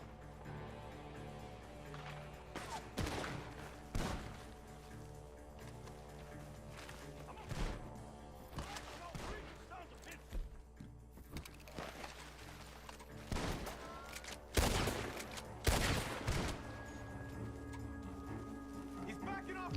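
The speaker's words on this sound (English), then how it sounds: "The gunshots are coming from that barn!" Gunshots fire from a barn in scattered, loud, sharp cracks and a few rapid bursts, set over a constant rumbling background with voices speaking between them.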